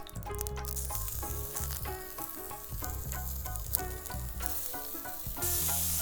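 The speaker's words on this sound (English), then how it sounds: "we are going to add some oil to this and start cooking our sausage" Wild game chorizo sausage frying in oil in a pan, a steady broadband sizzle over a dense bed of background music with tonal notes, growing slightly louder near the end.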